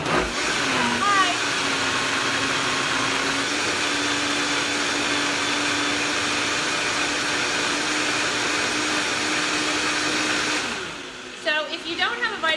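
A Vitamix blender blending a green smoothie, a loud steady motor whir that runs continuously, then cuts off near the end as a voice begins speaking.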